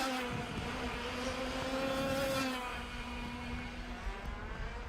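A racing kart at a winter cup race in Lonato passes around a hairpin, its high, buzzing two-stroke engine holding a steady whine that rises and then fades, heard from trackside with no talking.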